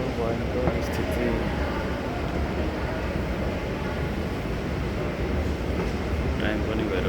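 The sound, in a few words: metro station in Doha at night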